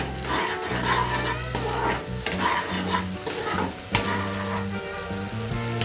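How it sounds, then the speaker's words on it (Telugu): Tomato puree frying and sizzling in butter in a pan for red sauce pasta, with repeated stirring scrapes and utensil clinks over a steady crackle, close and fairly loud. "ఇప్పుడు ఇది కొంచెం వేయించుకోవాలి బటర్లో."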